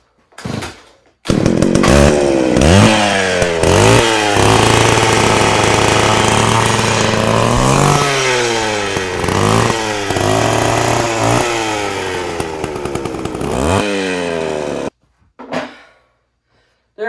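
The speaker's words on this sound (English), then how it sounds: "So first I gotta start my lovely chainsaw" A chainsaw used for carving a tree stump starts up and then runs loudly and close, its engine revving up and down repeatedly in a snarling whine before cutting off abruptly.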